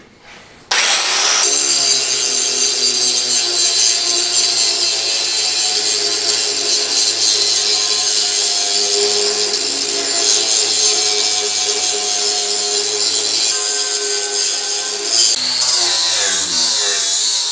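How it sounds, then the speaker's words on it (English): An angle grinder smoothing the edge of a bush hog mower blade, a loud, steady high-pitched whirring grind close by that runs continuously, with shifts in tone as the disc bites the steel. "we're going to use a grinder to smooth out the other side of the blade"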